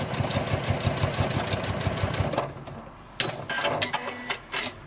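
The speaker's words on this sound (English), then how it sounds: "carry on stitching all the way to the very end and reverse my stitch" A domestic sewing machine runs steadily, stitching to the end of a bulky bag seam, then stops briefly and restarts in short bursts as it reverses the stitch.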